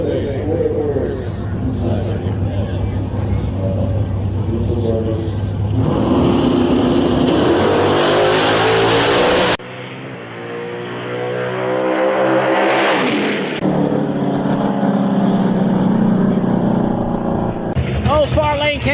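Drag racing cars launch at a Canada Heads Up Shootout Series event, one lifting into a wheelie, with loud engine roars and revving bursts under a commentator talking throughout.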